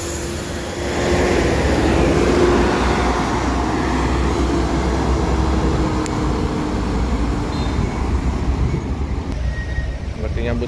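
An ALS 281 bus, one of the older NPM buses, accelerates on the road with a steady, loud engine and road roar that swells and holds throughout the interior ride.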